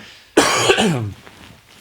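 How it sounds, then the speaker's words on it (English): A single harsh cough bursts out close by, a short rough blast with a ragged tail, then quiet room tone. "Sorry, I'm just going to cough"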